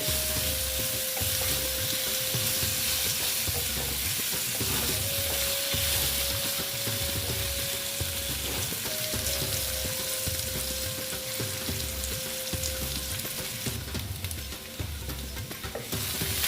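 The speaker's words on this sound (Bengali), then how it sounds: "আলুর মধ্যে হলুদ দিয়ে দিচ্ছি দিয়ে খুব সুন্দর করে আলুগুলো আমি ফিফটি পার্সেন্ট ভেজে নেব" Potatoes coated with turmeric fry steadily in a pan, giving a loud continuous sizzle with regular stirring scrapes throughout and no talking.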